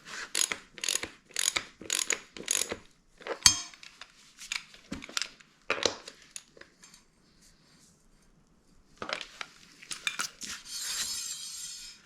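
Ratchet working on the axle of a Honda CRF150R supermoto build, a run of quick metallic clicking bursts up close, then a pause and a longer stretch of brighter clicks and scraping near the end.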